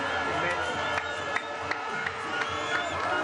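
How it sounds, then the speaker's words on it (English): A crowd cheers and shouts along the course of a canoe slalom race in Tacen, a steady distant roar with rhythmic claps or bangs about every third of a second, partly under talk. "You can hear the crowd."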